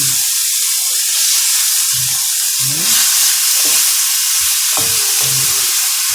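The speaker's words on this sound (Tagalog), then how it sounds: "Habang naluluto ang sibuyas, para hindi masunog yung gilid, lagay na natin ng kamatis." Onions and tomatoes sautéing in a pan for tomato macaroni soup, a loud steady sizzle and hiss with occasional scraping stirs, close up and without talk.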